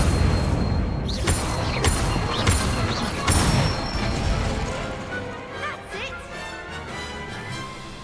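Spells in Hogwarts Legacy, the Incendio fire spell among them, burst out as a run of sharp crashing blasts with whooshing tails, several in quick succession, then fade into quieter ambience.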